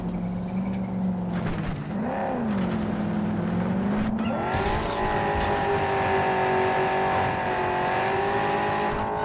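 A car accelerating in the video game Cyberpunk 2077, a loud engine whine that dips, then climbs steeply and holds at high revs, with a brief tire squeal and road rumble underneath.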